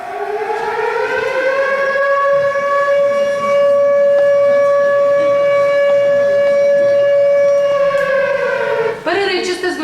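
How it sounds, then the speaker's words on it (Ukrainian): A loud, steady Ukrainian civil defense siren sounding the main alert signal wails on a sustained tone for nearly ten seconds, its pitch dropping slightly before cutting off near the end. "Усі жителі повинні знати розпізнати головний сигнал цивільного захисту"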